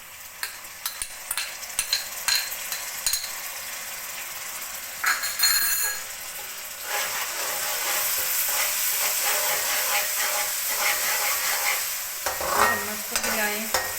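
Garlic ginger paste sizzles and fries in a hot pan for a chicken, spinach and potato dish, with a utensil stirring and scraping steadily throughout and occasional clinks against the pan's edge.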